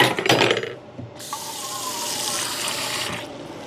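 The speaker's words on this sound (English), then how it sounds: "I'm also going to add a touch of water to this." After some clatter, a steady stream of water pours and splashes into a pot of chili on the stove for a couple of seconds, then stops, close by and moderately loud.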